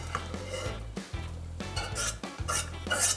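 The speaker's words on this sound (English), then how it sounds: "we're gonna add the rice and the greens. Add that right into the soup." Rice and greens going into a hearty trout soup in a pot, with repeated stirring, scraping and utensil clinks against the pot, each clattering stroke close and alone without talk.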